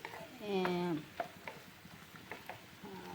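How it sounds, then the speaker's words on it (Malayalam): Thinly sliced ginger frying in a pan gives a soft, steady sizzle with light stirring scrapes, joined near the start by a brief high-pitched tonal sound. "ഇപ്പം ഞാൻ ഇഞ്ചി വറുത്തോണ്ടിരിക്കുക"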